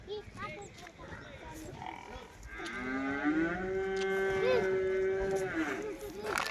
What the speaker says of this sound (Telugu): హర్యానా ముర్రా జాతి గేదె.